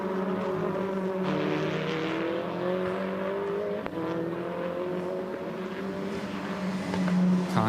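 GT Masters race cars at Hockenheimring pour into the Nord curve, the first corner, with a steady, dense engine roar of several cars at once, harmonic whine shifting as they brake and accelerate.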